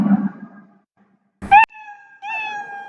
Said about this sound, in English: play sound meow. So when I click on that, it will produce the sound meow.